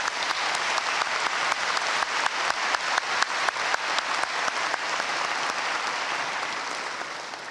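Sustained applause from a large audience at a college commencement ceremony, dense overlapping clapping with no voices, steady throughout and easing slightly toward the end.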